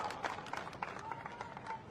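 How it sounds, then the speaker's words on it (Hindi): A crowd claps at an outdoor election public meeting in Shahdol, Madhya Pradesh, a faint, distant patter of scattered applause with uneven bursts. "जोरदार तालियां बजाओ इस पुण्य धरा पर"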